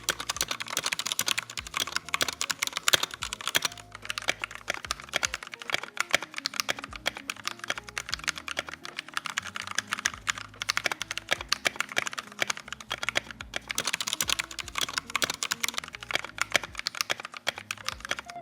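Continuous fast typing on a Ninja 71 custom mechanical keyboard fitted with lubed Kailh Red linear switches, dense overlapping keystroke clacks at close range with occasional louder spacebar-like thocks, no voices.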